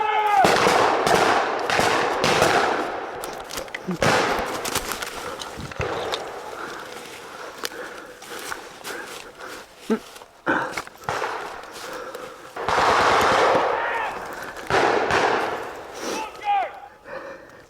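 Rapid volleys of blank rifle and machine-gun fire at a WWII battle reenactment, loud bursts clustered near the start and again later, with shouting voices in between.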